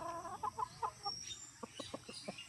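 A white Kelso gamefowl rooster gives a series of short, sharp clucks in irregular bursts, close and fairly quiet, with no voices over it.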